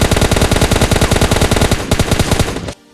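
Gunfire in PUBG Mobile Lite: a loud, rapid burst of automatic fire, dense and steady for nearly three seconds, then it cuts off abruptly into near silence, with no talking.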